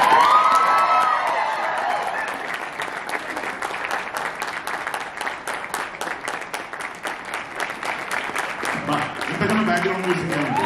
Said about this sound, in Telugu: ఈ చప్పట్లే కదా ఆకలికున్న కళాకారుడికి పంచపక్ష పరిమాణాలు.